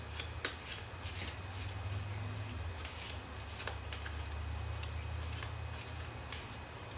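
Angel oracle cards being shuffled by hand, a steady papery riffle with soft repeated flicks over a low background hum, close and continuous with no talking.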